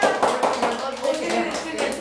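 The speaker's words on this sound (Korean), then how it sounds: "박수로!" A classroom of students claps briefly for a classmate's dance, with quick, uneven hand taps close by and voices mixed in.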